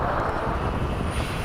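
An FMS F/A-18 electric ducted fan model jet passes in flight, a steady rushing whine with a broad airy roar, loud and close for the whole moment.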